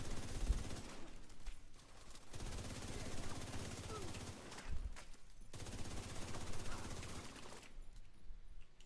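Sustained automatic gunfire in The Division 2, long dense bursts broken by a few short pauses, loud and close, with little else audible.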